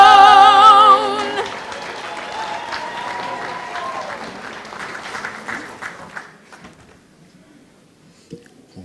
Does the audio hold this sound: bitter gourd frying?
no